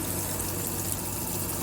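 Water runs steadily from a campervan tap fed by a submersible pump in a Murvi Morello, a continuous close gushing flow with no talk.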